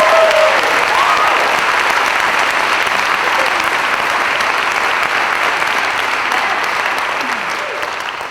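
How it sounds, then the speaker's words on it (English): An audience at an MLK convocation gives the choir a loud, dense round of applause, continuous clapping that stays full and only slowly thins toward the end. "Let's give them another round of applause"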